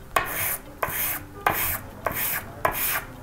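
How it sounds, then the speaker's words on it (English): A faceted brass pen barrel rubbed on flattened 600 grit sandpaper gives five even, gritty rasping strokes, each starting with a sharp scrape, close and clear with no talk. "rub the pen's faceted barrel and cap on the flattened piece of sandpaper"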